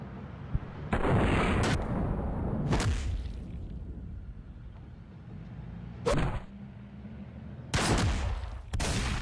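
A grenade blast in the video game Delay booms loudly among a spread of other gunfire and explosions, with several heavy bursts breaking through a steady rumble of combat.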